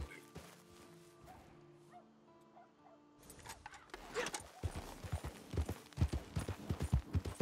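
A horse's hooves clip-clop in a rapid, rhythmic gallop while riding in the Western video game Red Dead Redemption 2. The quiet stretch at first gives way to close, loud, regular hoofbeats.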